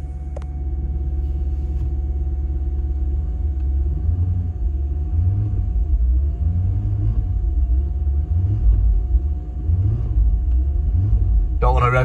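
A BMW M5 in poor, previously non-running condition starts up cold on a freezing day, then settles into a loud, steady low idle rumble with a constant hum.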